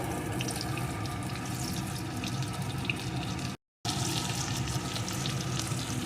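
Chicken pieces fry in oil for chicken kosha, a steady close bubbling sizzle that runs on evenly apart from one short silent break, with no voices.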